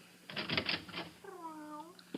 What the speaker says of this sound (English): This little white kitten.